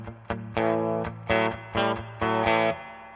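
Electric guitar played through a Paul Reed Smith amp with the pickup coil unsplit, a few strummed chords ringing out in short, spaced bursts with distortion and reverb, loud and alone.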